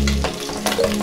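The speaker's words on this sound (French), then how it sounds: "déglacer au cognac et on va bien gratter pour récupérer tous nos sucres de cuisson" A poultry pan deglazed with cognac: a brief, close burst of sizzling hiss with a scrape or two of stirring, no voices.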